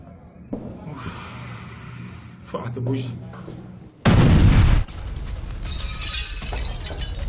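Israeli airstrikes hit buildings in Lebanon, and one loud, roaring blast bursts out partway through. Quieter rumbles and crashes come before and after it, with voices in the background.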